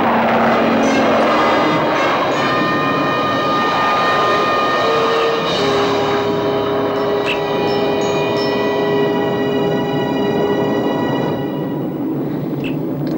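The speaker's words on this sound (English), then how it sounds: "Prepare for takeoff." A science-fiction spacecraft lifting off: a loud, sustained roaring rumble layered with steady whining tones, with a brief shift partway through and no talking.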